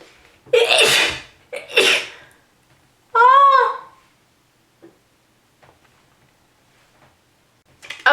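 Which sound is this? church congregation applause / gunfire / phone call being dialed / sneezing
sneezing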